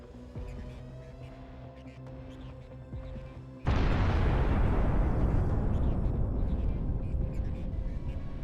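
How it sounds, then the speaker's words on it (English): A land mine detonates under a Russian armored vehicle carrying infantry: after a low, steady background, a sudden loud blast erupts into a broad, roaring rumble that holds for several seconds and slowly eases. "Russian armored vehicle with infantry hits a mine and loses control of the vehicle."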